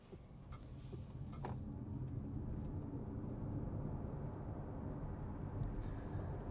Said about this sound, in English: So what's the acceleration like from the Jeep Avenger?